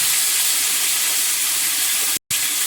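Prawns dropped into a hot pan with oil and black cumin, a loud steady sizzle and hiss that carries on without a break, cut off sharply for a moment near the end.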